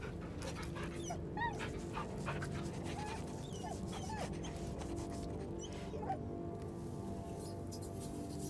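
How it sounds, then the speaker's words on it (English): A dog in the video game Baldur's Gate 3 being petted, giving soft whimpers, pants and small yips over a steady low ambient game background, with no talking. "Pet the dog."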